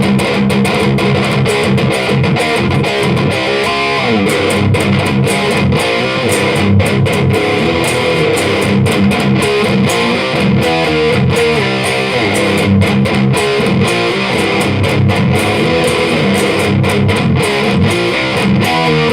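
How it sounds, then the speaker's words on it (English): Electric guitar played loud through a Dragonfly black metal distortion pedal, a knockoff of a Washburn Soloist pedal, giving dense, saturated chugging riffs with palm-muted rhythmic attacks throughout. "It's their knockoff of a Washburn Soloist distortion pedal."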